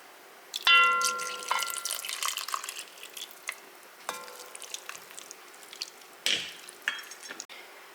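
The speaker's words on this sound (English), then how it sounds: "Return your lobster to the pot, and then we'll put in the pasta and the pasta water." Pasta and starchy pasta water go into a pot of parmesan lobster sauce and get stirred, giving soft splashes, drips, a faint sizzle and scattered utensil clinks close by.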